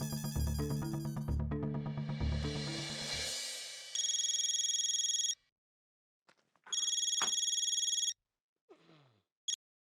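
A phone rings with an electronic ringtone that sounds in two long bursts after a fading musical sting, then a short chirp and a clipped final ring, loud and close in an otherwise quiet room.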